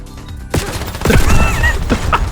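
Video game gunfire as a player empties the magazines of both guns, a dense, loud burst of rapid shots and impacts that starts abruptly after a half-second lull and keeps going to the end.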